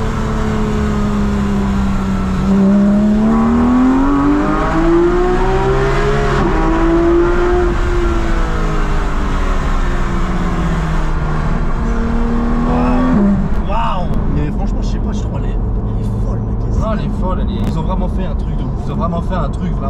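Porsche GT3 Club Sport engine pulling and braking, a loud, continuous drone that rises and falls in pitch through the gears and then drops off, with people talking over it throughout.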